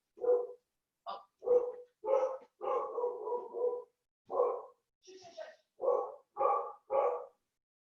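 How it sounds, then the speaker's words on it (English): A pet dog barks repeatedly at home during an online meeting, a string of sharp, fairly close barks and yips with short gaps between them. "And my dog is barking, sorry."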